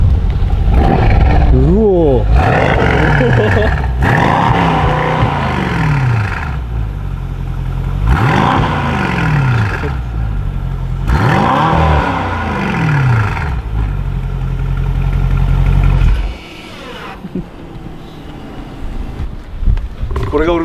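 A Mercedes-Benz engine revs in several bursts as the accelerator is pressed, each swelling and falling in pitch, loud and close inside the car. People talk and exclaim throughout, and the engine drops away near the end.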